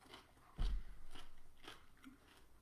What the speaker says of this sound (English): So I'll keep eating my cucumber.